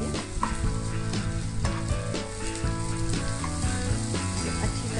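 Ginger-garlic paste fries for a potato curry with a dense, continuous sizzle that holds steady and close throughout, with no talking.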